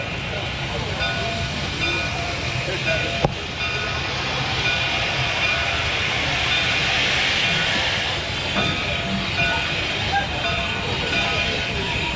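A loud, continuous rumble and rattle of a moving Midwest Central Railroad passenger train at Midwest Old Threshers, with steady wheel and carriage noise throughout and a brief clank partway through.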